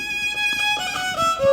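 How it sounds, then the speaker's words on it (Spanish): A violin plays sustained, sliding melodic notes during a 2020 virtual concert by a live band, with other instruments faintly underneath. "Es el sentimiento del violín."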